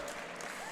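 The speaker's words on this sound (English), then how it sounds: "Give him a round of applause." Audience applause at the 2019 DiRT Rally 2.0 World Series Grand Final as the rally esports champion is called to the stage, a steady, dense wash of clapping held at even loudness throughout.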